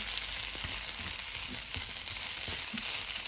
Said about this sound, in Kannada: ಇದನ್ನು ಸ್ವಲ್ಪ ತಿರುಗಿಸ್ಕೊಟ್ರೆ ಮತ್ತು ಮೇಲಿರೋದೆಲ್ಲ ಕೆಳಗೆ ಸ್ವಲ್ಪ ಮತ್ತೆ ಚೆನ್ನಾಗಿ ಫ್ರೈ ಆಗುತ್ತೆ.